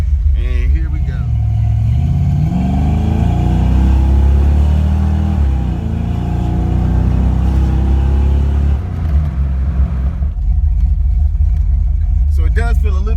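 A Foxbody car with freshly installed spark plugs accelerates hard, a loud rumbling engine climbing in pitch through gears, then backing off, with a person talking over the engine noise.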